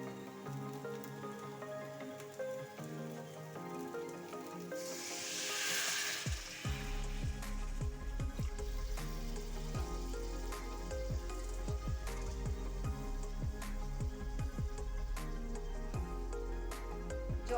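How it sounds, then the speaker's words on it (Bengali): Water is poured into a pan of fried potatoes and eggs for potato-egg curry, bringing a brief rising hiss and then steady, close bubbling and crackling spatters. "জল দিয়ে দেবো।"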